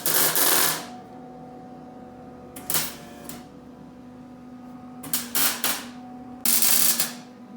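New frame rails on a 1971 Cuda are welded in from underneath, a series of short crackling bursts spaced a second or two apart with a steady low hum between them.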